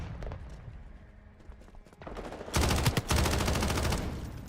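Gunfire from the Modern Warfare 4 beta video game: faint shots early on, then a loud, dense burst of rapid fire that begins midway and holds to the end.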